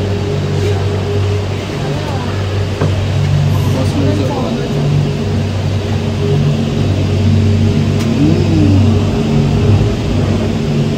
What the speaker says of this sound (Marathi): तर ही आहे आमची वाली केबल कार